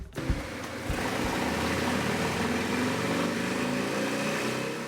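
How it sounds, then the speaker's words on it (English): A Harley-Davidson motorcycle fitted with a new exhaust, breather and stage 2 cam is revved on a dyno, with a brief clatter at the start before a loud, sustained engine roar holding steady. "The exhaust is on, the breather's on, the stage 2 cam is in, and we have the whole side of the bike exposed, ready for the dyno."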